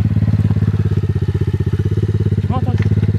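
Motocross motorcycle engine running at a steady, loud, rapid pulsing idle or low rev throughout, with a brief voice near the end.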